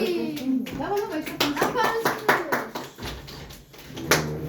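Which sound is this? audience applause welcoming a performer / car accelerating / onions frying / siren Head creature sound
audience applause welcoming a performer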